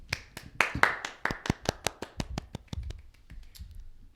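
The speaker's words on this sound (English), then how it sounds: "Round of applause." A small studio audience claps to welcome the first guest on a comedy talk show: roughly fifteen crisp, separate claps, brisk at first, then thinning and fading out with no voices.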